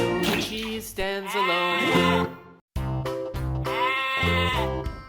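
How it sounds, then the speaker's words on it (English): A sheep gives two loud, wavering bleats, each lasting over a second and separated by a brief silence, close and clear with nothing else heard. "Sheep."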